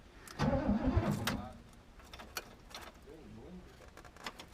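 Starter motor cranking the engine of a 1968 Oldsmobile Cutlass two-door convertible after 38 years sitting outdoors, one short, sluggish burst of turning over that fails to catch, followed by faint clicks and quiet.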